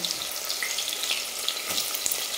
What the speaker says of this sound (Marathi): तेल छान गरम झाल्यानंतर 2 कांदे आपण उभे टाकणार आहेत